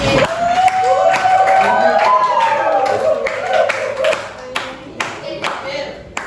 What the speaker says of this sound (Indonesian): Oke, tepuk tangan dong buat Anis.